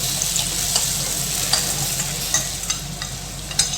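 A tamarind and gram flour mix is stirred slowly into hot oil in a kadai for maani, producing a steady close sizzle with a low hum and intermittent soft scrapes and taps of a spoon, no talk.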